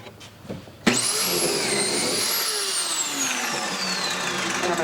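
A drill in a Kreg pocket-hole jig bores into a cabinet panel. After a few soft handling knocks, the motor whines up sharply, then holds one continuous run whose pitch slowly sags as the bit cuts.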